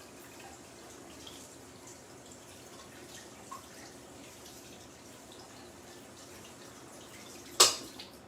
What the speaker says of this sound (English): So we'll rinse those off.